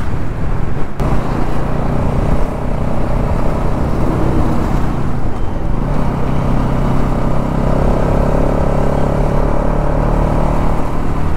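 A car drives slowly through a village, its engine a loud, steady low rumble with road noise, rising slightly now and then as it eases along, with no talk.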